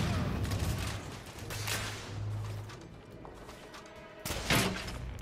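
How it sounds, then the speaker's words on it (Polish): A grenade explodes in The Order: 1886, a burst of loud gunfire-like blasts and thuds, with a sharp, loud explosion near the end over ongoing combat noise. "wybuchł mi tu gdzieś przed głową jakiś granat"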